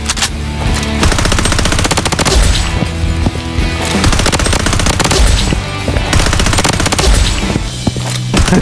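Automatic weapons fire in the shooter game Blood Strike: loud, dense machine-gun bursts rattle almost without pause for the whole stretch, with layered shots and no voices.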